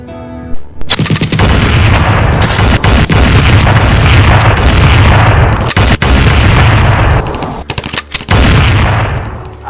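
Gunshots and bomb explosions in a documentary reenactment of a cangaceiro battle ring out loud and near, a sustained barrage of rapid gunfire mixed with heavy booms, with brief gaps before renewed bursts.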